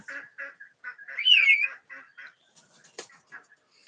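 Common mynas and other small birds calling nearby in a quiet morning setting, a series of short chattering notes and one longer whistled call, then softer scattered chirps and a single sharp click.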